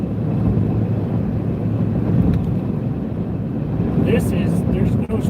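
Strong wind howls during a tornado warning in Missouri, a constant roaring rush with gusty surges buffeting the microphone and a few light clicks near the end.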